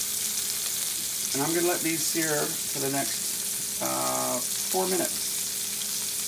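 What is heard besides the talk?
burgers searing in a pan on the stove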